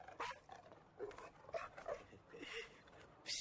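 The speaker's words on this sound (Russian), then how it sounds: "Вот такая собака." A dog whimpering and whining in short, soft bursts, several faint yelps spread across a few seconds, quiet and close with light background noise.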